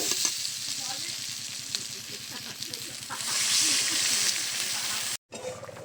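Potatoes and taro fried with spices in a pan hiss steadily under quick, rhythmic stirring. Water poured in partway through lifts the sizzle into a louder, brighter rush, and the sound cuts out briefly near the end.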